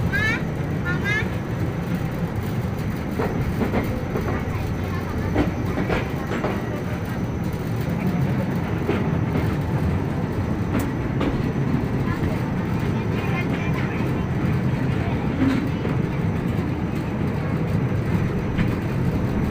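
An electric train rumbles past continuously at Dusun Semilir, Bawen, with a steady roar and occasional clatter, loud and close, with a voice briefly heard.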